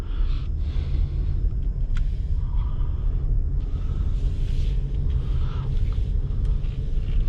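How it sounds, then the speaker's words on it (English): 2021 Subaru Forester Touring driving on the road, a steady low rumble of engine and road noise heard from inside the cabin, continuous and even throughout with faint whooshing passes. "go out on the road and test this Subaru out"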